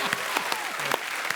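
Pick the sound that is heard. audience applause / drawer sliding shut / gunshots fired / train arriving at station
audience applause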